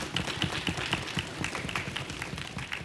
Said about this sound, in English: Please welcome them again with a round of big applause.